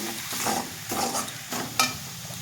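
Papad dolma being stirred and fried with garam masala in a pan, heard as a soft, continuous sizzle broken by a few scraping stirs at roughly regular intervals.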